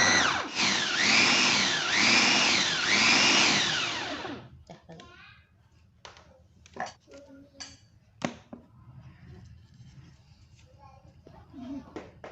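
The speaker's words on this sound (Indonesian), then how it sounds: "saya blender semuanya sekalian seperti ini" Kitchen blender grinds candlenuts and spice paste ingredients in a loud, whirring burst with rhythmic pulsing surges for about four seconds, then stops, leaving clinks, knocks and faint handling noises.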